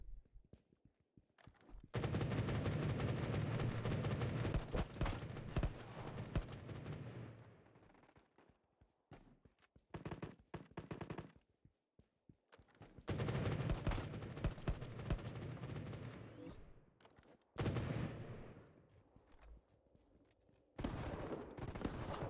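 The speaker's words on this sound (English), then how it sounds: "Oh, that shotgun's so slow." Gunfire in the mobile shooter Battle Prime, including a slow shotgun, comes as long loud bursts of rapid automatic shots broken by short pauses and a few single blasts, with little talk.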